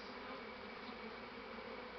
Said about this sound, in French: j'enfume afin que les abeilles sortent et s'envolent pour rejoindre leurs copines